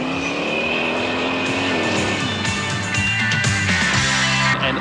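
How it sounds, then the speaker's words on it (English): A V8 Commodore rally car at speed, its engine loud and close, running at a steady high roar with the pitch shifting through gear changes and a brief drop near the end. "The V8 Commodore certainly produced some speed on the day"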